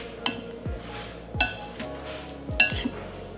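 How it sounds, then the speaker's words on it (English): Pork belly marinade with sugar, black pepper and fish sauce being stirred in a bowl, giving three close clinking scrapes of a utensil against the dish at a steady rhythm, with soft wet mixing between them. "Go ahead and mix this all up."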